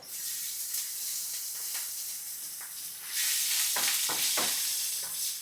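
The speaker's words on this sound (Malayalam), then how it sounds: "ഇനി നമുക്ക് അതിലേക്ക് ചതച്ച് ഇഞ്ചിയും വെളുത്തുള്ളി ഇട്ട് കൊടുക്കാം" Crushed ginger and garlic dropped into hot oil with curry leaves for beef chaps: a broad, hissing sizzle that swells louder midway, with a few stirring scrapes and no talking.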